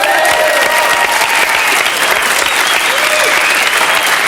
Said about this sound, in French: On applaudit Laurent Baffy.